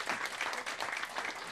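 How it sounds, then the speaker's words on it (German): A crowd at the 2014 SV-Südwest Ludwigshafen summer festival claps in steady, dense applause, moderately loud and without voices. "Nochmals herzlichen Applaus und vielen Dank"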